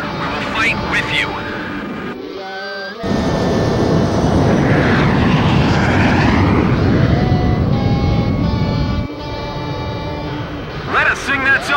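Fighter jets roar in the Ace Combat 5 video game, a loud sustained engine rush swelling through the middle of the passage, with radio voices and music speaking over the sound at the start and end.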